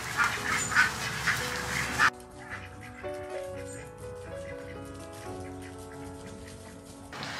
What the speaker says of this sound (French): Le coureur indien